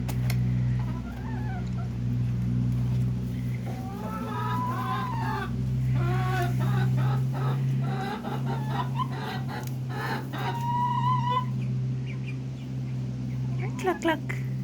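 Backyard chickens, young birds nearly full grown and joining an existing flock, cluck and chatter in short bursts against a steady low hum, with a rooster-like call now and then; no one speaks.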